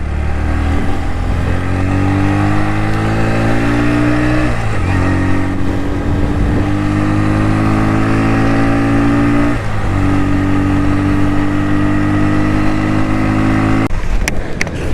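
A Bajaj Pulsar NS125 motorcycle engine drones close and loud while riding, its pitch climbing steadily through the gears with two clear dips at shifts before a final drop.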